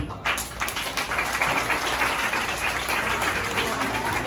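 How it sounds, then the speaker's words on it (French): An audience at a reading day event in Port-au-Prince bursts into applause, a sudden swell of many clapping hands that stays loud and dense throughout, with some voices mixed in. "On applaudit."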